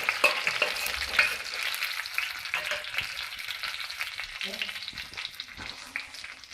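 Urad dal and mustard seeds fry in hot oil for tomato chutney, a loud continuous sizzle broken by sharp crackling pops, fading slightly toward the end.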